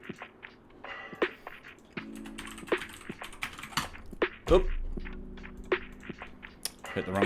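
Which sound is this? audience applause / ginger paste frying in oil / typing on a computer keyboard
typing on a computer keyboard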